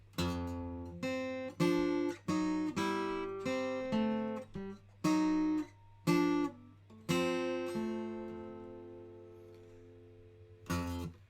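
A guitar plays a short phrase of separate plucked notes and chords, each ringing briefly, with a final note sustaining and fading, close and solo.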